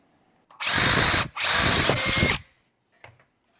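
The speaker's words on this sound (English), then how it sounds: "I'm gonna go one size up on the drill bit and let's see what that does" A power drill whirs loudly in two long bursts with a brief pause between, followed by a short faint knock.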